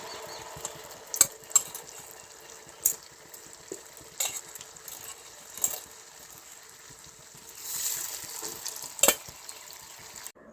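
Banana fritters frying in oil over a medium flame, a steady soft sizzle with scattered sharper pops and clicks of a utensil stirring, faint and continuous throughout.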